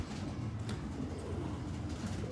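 A red-eyed pigeon coos softly and far off, buried in steady broadband background noise, with no voices.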